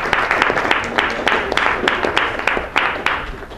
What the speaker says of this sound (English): Little applause for physics laws that work.